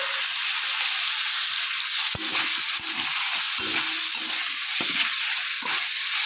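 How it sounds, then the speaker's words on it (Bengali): Cauliflower fries in oil in a pan, softened after being covered with a little water, giving a loud, dense, steady sizzle. Occasional soft knocks and stirring scrapes sit over the hiss, with no voices. "ভালো করে আমার কপিটাও কষানো কমপ্লিট হয়ে গিয়েছে"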